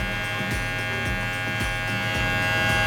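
Electric hair clippers with a half guard cutting hair during a low fade undercut, a steady close buzzing hum with repeated soft dips as the blade passes through the hair, no talk.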